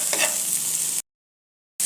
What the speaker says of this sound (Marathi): याच्यामध्ये टोमॅटो घालूया आणि आता टोमॅटोही याच्याबरोबर थोडा मऊ करून घेऊया